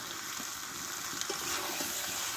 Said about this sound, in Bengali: কোনোরকম গুঁড়ো মশলা ছাড়াই চিকেনটা রান্না হচ্ছে